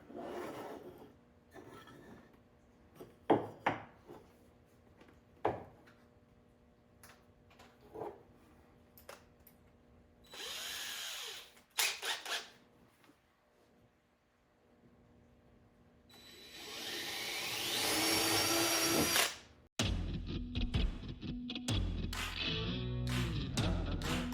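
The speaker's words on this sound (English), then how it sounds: "I'm going to drill all these out, then we'll screw them together" Intermittent power drill bursts whirring into aluminum, separated by clicks and handling noises, followed by longer sustained drilling runs near the end.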